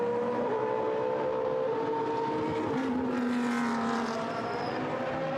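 Race cars, Ferraris among them, lapping the Algarve circuit in Gran Turismo Sport, their engines droning steadily with shifting pitch as one car dives up the inside into a corner, loud and continuous with no talk.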